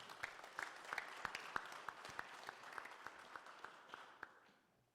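Church congregation clapping together during a Sunday worship service, a dense run of sharp hand claps that tapers off near the end, with no voices over it.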